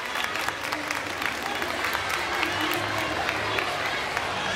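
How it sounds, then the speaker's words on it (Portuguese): An audience at an anime convention panel breaks into sustained applause, many hands clapping densely and steadily, with crowd voices and cheers mixed underneath. "vou pedir uma salva de palmas pra eles, por favor"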